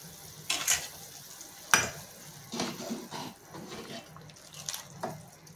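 Vegetable soup with chili, salt and black pepper cooks on a high gas flame, with intermittent splashy stirring and bubbling bursts over a faint background hiss.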